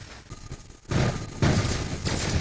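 Two heavy shotgun blasts from a Typhon Storm in the War Robots mecha game, each a loud, broad burst with a decaying tail, about half a second apart, over dense battle noise.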